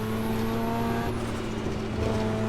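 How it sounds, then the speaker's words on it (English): The Mazda RX-7's rotary engine screams at high revs in the Assetto Corsa racing game at the Nürburgring, a loud, buzzy, sustained drone with a gear change partway through. "the sheer sound of the rotary engine"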